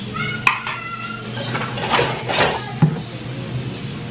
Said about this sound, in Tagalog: may naghuhugas ng pinggan.